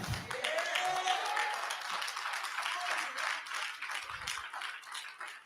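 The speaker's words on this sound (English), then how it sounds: "I got 5 people to clap" Congregation clapping during a Sunday church service, a dense steady wash of applause throughout with a sermon voice and reverb over it, a few low thumps near the end.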